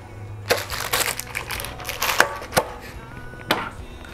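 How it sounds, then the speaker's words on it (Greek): Excess parchment paper trimmed around the bottom of a 26 cm cake pan, a series of close, sharp cutting snips and crisp crinkles at an uneven pace. "Κόψω τα περίσσια από τη λαδόκολα γύρω γύρω."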